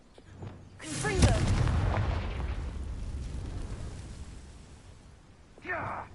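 A Confringo fire spell bursts in Hogwarts Legacy, a loud booming blast that swells and rumbles for several seconds, with a softer second burst near the end.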